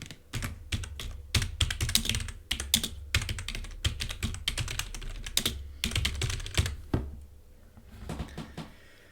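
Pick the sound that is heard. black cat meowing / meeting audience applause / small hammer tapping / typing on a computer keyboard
typing on a computer keyboard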